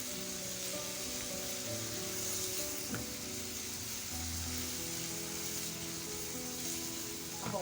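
Onions sizzle steadily in a pan with a constant frying hiss, broken by an occasional light scrape or clink as they are stirred.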